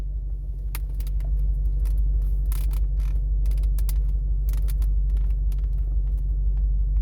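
Interior trim creaking inside a BMW F90 M5 Competition sports sedan on the move: irregular clicks and creaks over a steady low road rumble, close by, with no talking.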